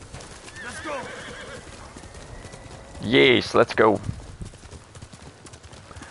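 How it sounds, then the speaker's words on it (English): Horse from the game Ghost of Tsushima whinnies loudly up close, a bright rising-and-falling neigh followed by clip-clopping hooves, with someone talking briefly before it over soft ambient game sound. "Let's call the horsey."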